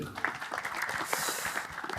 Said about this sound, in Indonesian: Tepuk tangan dong yuk dulur